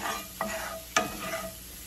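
Mushrooms sauté in a pan over medium-high heat, a quiet sizzle punctuated by two sharp scrapes of a utensil stirring them.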